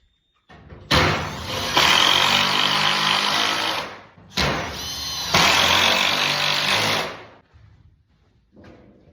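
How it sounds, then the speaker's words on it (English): A power drill drives roofing screws through scrap tin roofing sheets on a chicken tractor frame, with two long, loud whirring runs separated by a short pause, then a faint brief whir at the end. "just putting the tin on so that we can cover this half of it. So just securing them with roofing screws."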